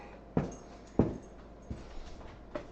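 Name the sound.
dog whimpering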